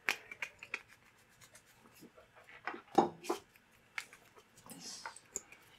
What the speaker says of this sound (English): I know which cards I'm doing, but I'm just shuffling.